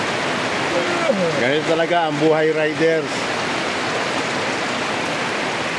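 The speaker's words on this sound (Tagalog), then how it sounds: "inabot na kami ng malakas na ulan dito sa aming tinutuluyan" Heavy rain pouring at a lodging on a riders' trip, a steady dense hiss throughout, with someone speaking briefly over it.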